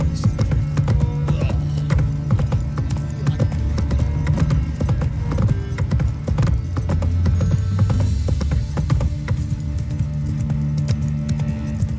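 Roach, the horse in The Witcher 3: Wild Hunt, gallops in quick, continuous hoofbeats with a faint jingle of tack, loud and close against a low humming backdrop.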